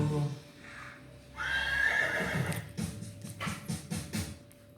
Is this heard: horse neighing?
yes